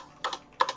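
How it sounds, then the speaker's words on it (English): Two quick bursts of typing on a computer keyboard, each a short cluster of clicks close by, separated by a brief pause, during a Freestyle 2 basketball game-play session. "Are you typing this every time?"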